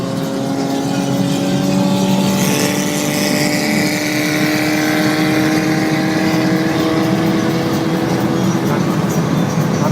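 A Fiat Uno Sporting race car accelerates hard on a Caruaru track day. The loud, close engine whine climbs steadily in pitch through the gears, with no voices over it.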